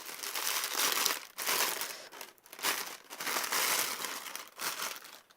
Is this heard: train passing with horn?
no